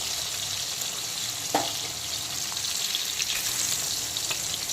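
Pieces of rohu fish frying in hot oil, a steady close crackling sizzle throughout with a brief knock partway through.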